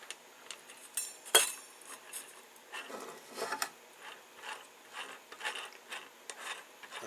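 Two 22 mm half nuts being tightened against each other with a wrench on a multi saw blade shredder, giving a run of faint metallic clicks and ratcheting ticks with one sharper clank early on.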